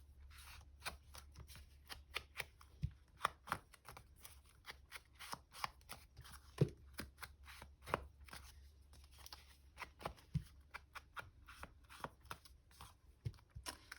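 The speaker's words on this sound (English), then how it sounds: "I have time just to go and snip a little here and there." Scissors snip through paper for a fall leaves folio craft project, a long run of short, crisp cuts in an uneven rhythm, close up and quiet with no talking.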